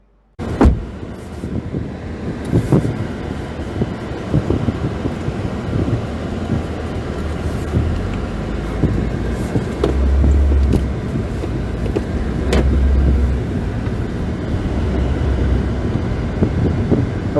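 Toyota GR Sport 2021 race car driving on a track, its engine a steady broadband roar with low rumbling surges, continuous and fairly near throughout.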